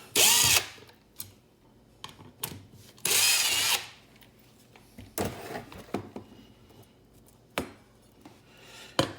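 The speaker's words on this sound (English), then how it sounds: "And remove your two set screws." A power drill removes two set screws from a vinyl floor vent in several short, loud bursts of whirring, with quieter clicks and handling noises between them.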